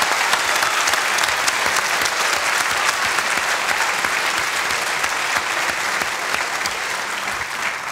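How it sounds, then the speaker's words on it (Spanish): A studio audience on a 1995 Chilean TV variety show applauds 19-year-old tennis player Chino Ríos: dense, steady clapping that fills the room for the whole stretch, tapering only slightly at the end, with no voices over it. "Un aplauso para él."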